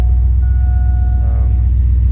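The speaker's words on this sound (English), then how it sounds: "Got an exhaust leak right now" Steady low engine rumble from an old Ford truck idling with an exhaust leak, with a faint whine riding on top and no talking.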